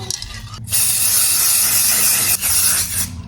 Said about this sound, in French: Un coup de bombe brillant.